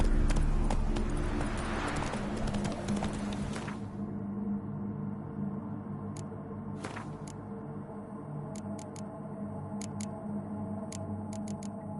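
Roach the horse gallops in The Witcher 3. A busy, close run of hoofbeats fades after a few seconds, leaving a quiet backdrop with faint, scattered ticks.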